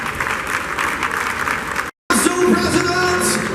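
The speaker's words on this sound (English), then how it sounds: "So let's give a round of applause for drive, passion, and excellence in the host city of Kiev." A convention audience at the World Boxing Council opening in Kiev applauds steadily, dense close clapping broken by a short gap, then resuming with whoops and crowd noise.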